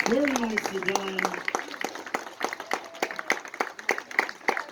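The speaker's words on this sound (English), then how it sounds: "How about a big round of applause for both of our toasts?" Wedding guests applaud after the toasts, steady rapid clapping that carries on after a brief voice at the start, with scattered cheers underneath.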